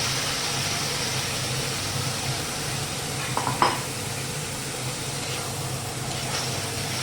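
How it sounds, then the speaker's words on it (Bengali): Potatoes and turmeric masala stir-fried in a wok give a steady close sizzle, with a brief scrape and clatter of a spatula partway through. "দিয়ে ভালো করে কষতে হবে যতক্ষণ না কড়াই লেগে লেগে আসছে মশলাটা"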